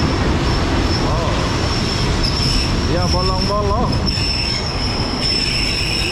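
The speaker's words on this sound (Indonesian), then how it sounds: "Oh, kereta api macam di Indonesia." A train moves through a railway station in Thailand, loud rolling rumble with a sharp rising and falling wheel squeal midway, close to the listener, while a person talks briefly over it.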